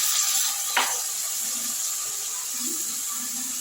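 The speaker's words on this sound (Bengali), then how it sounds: "এখন আমি মশলাটার মধ্যে দিয়ে দিচ্ছি মিক্সির বাটি ধোয়া একটু জল" Water from rinsing a mixer grinder jar is poured into a spice paste frying in oil for a rohu fish curry, making a brief close splash followed by a soft, continuous sizzle and bubbling.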